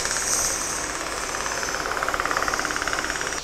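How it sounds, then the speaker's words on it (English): A rotary sander sanding wood whirs with a steady buzzing drone and a rapid pulsing rhythm, close and fairly loud, with no talking. "I'm now just going to clean that up with my circular sanding gadget."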